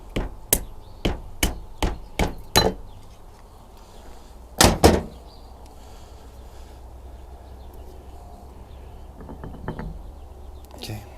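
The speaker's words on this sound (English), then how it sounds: "now we can take our punch or screwdriver and just kind of tap our distributor out" Sharp metallic taps of a punch knocking the distributor out of a Rexroth drive motor from a Bobcat T590–T650 skid steer: a rapid series of six strikes, a pause, then two heavier blows, close and loud in a quiet shop.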